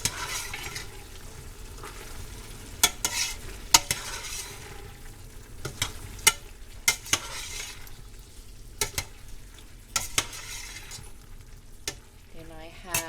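Beef tips and a whole onion being stirred in a pan, with a soft sizzle underneath and irregular sharp clicks and scrapes of a utensil against the pan.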